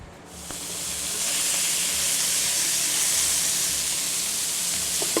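Beef tips sear in olive oil in a skillet, a loud steady sizzle and hiss that swells after the meat goes in and holds strong throughout.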